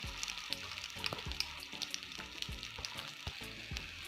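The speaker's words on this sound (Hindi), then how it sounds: "शामी जो है वो अच्छे से फ्राई हो चुके हैं।" Shami kebab patties frying in oil in a pan, a soft continuous sizzle broken by scattered crackles and the occasional scrape or tap of a utensil, fairly quiet and with no voices.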